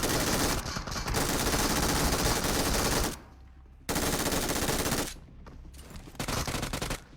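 Sustained MG3 machine gun fire in a video game roars in long, dense bursts, cutting out briefly twice before resuming at full intensity; loud and close.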